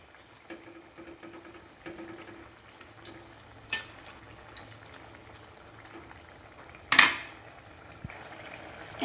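Banana flower curry with mung lentil fritters simmering in a pot, a faint steady bubbling with occasional soft clinks and sharp metallic knocks from utensils.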